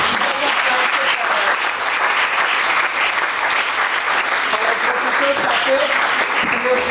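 Sustained applause from a seminar audience after a lecture, loud and continuous, with faint voices mixed in under the clapping.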